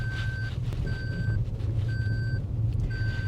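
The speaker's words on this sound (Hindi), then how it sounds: "ये सीट रिमाइंडर अभी भी बोलता रहेगा?" A seat belt reminder chime in a Maruti Brezza repeats as evenly spaced steady tones, four in a row, over the low rumble of the car's interior.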